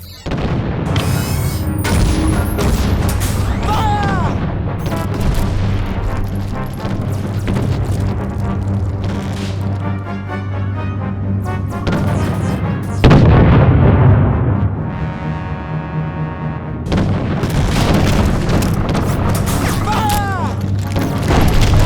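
Ship cannon fire and explosions in the Treasure Planet video game rumble and boom almost without pause, with heavy bursts and a steady low drone under dense battle noise and a few voiced callouts.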